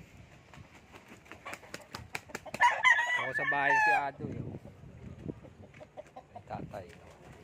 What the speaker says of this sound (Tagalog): Laking manok, mga manok niya.